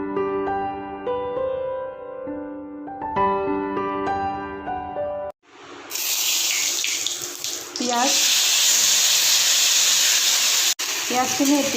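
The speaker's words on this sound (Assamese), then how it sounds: "পিঁয়াজখিনি এতিয়া ভালদৰে গোল্ডেন ব্ৰাউন হোৱালৈকে ভাজি থাকিব লাগিব" After a few seconds of melodic music, onions hit a hot pan and fry with a loud, bright, continuous sizzle that keeps going, with a brief break partway through.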